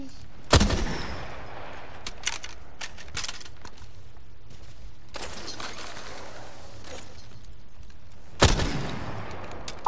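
Gunfire in the video game Apex Legends: two loud sharp shots, one near the start and another late, with faint smaller pops and game ambience between them.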